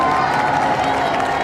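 A large outdoor crowd greeting King Charles III cheers and applauds in a dense, continuous roar, loud and close for a brief moment, with voices mixed into the noise.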